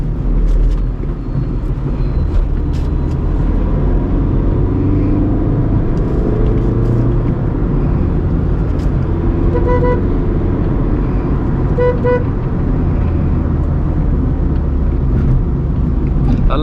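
A Volkswagen Polo in good condition drives along a road, a steady engine and tyre rumble continuing throughout, with a voice talking over it.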